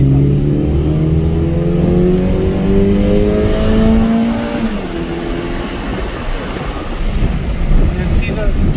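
Pace car on a race track accelerating hard out of a corner, the engine note climbing loudly through rising pitch, then a gear change and a rougher, wind-buffeted roar as it pulls away.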